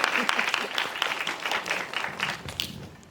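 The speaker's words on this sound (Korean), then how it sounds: "저희 박수 선생님들 좀 크게 쳐주시면 감사드리겠습니다" Audience applause at a film screening with a cast Q&A, a steady dense wash of many hands clapping throughout, moderately loud with faint crowd murmur beneath.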